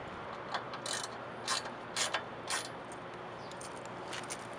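Bolts, including T30 bolts with 10 mm nuts, being tightened on a Maximus-3 stinger bar, giving faint, brief bursts of ratchet clicks over a quiet background hiss.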